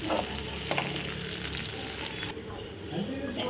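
Onions sizzle and crackle in a hot pan, with stirring scrapes and a continuous frying hiss throughout.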